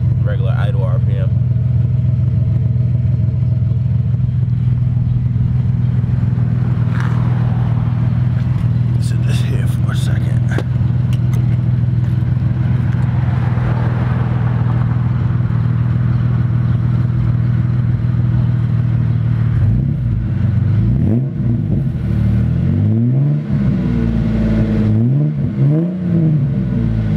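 A 1999 Ford Explorer Sport engine with a Dynomax exhaust idles after a cold start, giving a loud, steady low rumble that dips and wavers toward the end, with someone talking over it.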